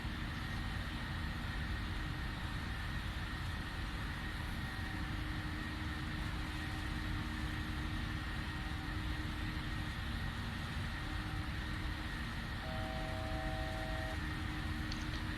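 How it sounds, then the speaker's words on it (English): A PMDG 737 airliner in Singapore Airlines livery climbs at climb power after takeoff in the Prepar3D flight simulator, giving a steady, loud jet-engine roar with constant tonal whines throughout. "Acceleration altitude, so climb power, bring the nose down, giving the aircraft the chance to speed up."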